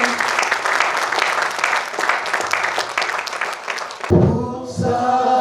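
A church congregation claps in praise, steady sustained applause from many hands filling the room, ending as a voice starts to speak.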